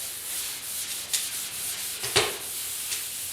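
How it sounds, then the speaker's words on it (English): Light hand sanding of a 1972 Ford F100 truck door with 1200 grit sandpaper, a soft continuous rubbing hiss with a few stronger strokes, close and alone. "just a real light sand, and I'm using some, this is 1200 grit"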